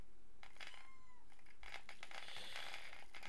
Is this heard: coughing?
no